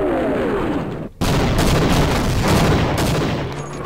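Gunfire in Half-Life Source during an air strike sequence: loud, repeated booming shots and heavy bursts with a brief silent gap near the start, then a dense barrage of reports rolling on.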